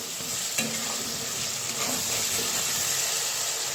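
Spice paste for a broad bean seed and potato curry sizzles softly in a pan while being stirred, a quiet steady frying hiss with occasional scrapes.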